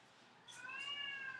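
A single drawn-out cat meow, faint and somewhat distant, rising then holding a tonal wail against quiet background.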